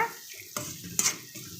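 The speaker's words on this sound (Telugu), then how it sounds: "కొంచెం ఫ్రై అవ్వాలి ఎర్రగడ్డలు" Chopped onions frying in a pan for an egg and garlic chilli dish, with a soft continuous sizzle and two sharper clatters of a spatula stirring against the pan, fairly close.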